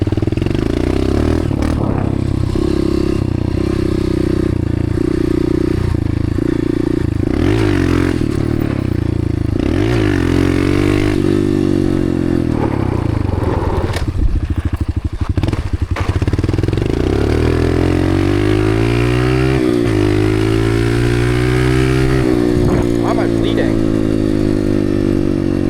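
Dirt bike engine revving hard and rising and falling in pitch through a run of wheelies on a track, loud and close throughout, with occasional scrapes and clatter and some talk mixed in.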